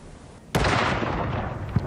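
Gun salute at the royal funeral at Windsor Castle: a single sharp boom with a rumbling tail, heard at a distance against an outdoor background.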